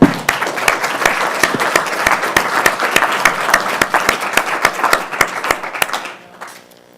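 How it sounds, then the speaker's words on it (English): A meeting audience applauds in a room, dense steady clapping with sharp individual claps standing out, loud and close, fading out at the end with no talking. "I think these rounded people need a round of applause."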